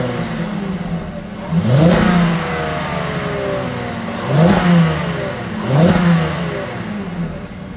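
A Volkswagen car's exhaust revs three times, each blip of the engine climbing sharply then falling back to a steady idle, close and loud.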